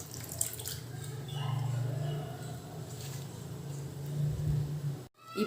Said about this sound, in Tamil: இப்படி நல்லா வாஷ் பண்ணிக்கோங்க